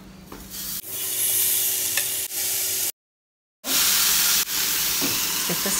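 Steady hissing sizzle of bacon cooking in a Bacon Express countertop cooker set to crispy, with billowing steam, continuous and close, broken by a short stretch of silence before the sizzling resumes.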